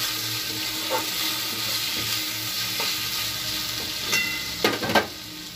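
Sliced potatoes frying in a pan in a home kitchen, a steady soft sizzle with a few faint stirring clinks and scrapes near the end, no talking.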